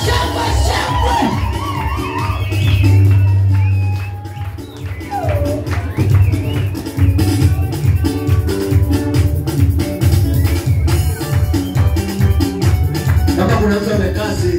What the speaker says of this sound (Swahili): Shangwe na vigelegele na makofi mazuri.